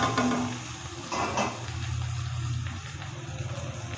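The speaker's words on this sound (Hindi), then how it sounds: "अब इस कंडीशन में हम इसमें पानी ऐड करेंगे।" Water is poured into minced meat frying with masala in a pan for a matar keema, giving a short splashing gush over a steady low sizzle and occasional clinks of metal.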